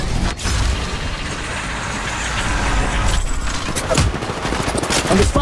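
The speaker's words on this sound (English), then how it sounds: "Under fire here." Sustained, dense gunfire in the Apex Legends Mobile shooter game, a continuous loud rattle of shots with a few sharper cracks near the end and no voices.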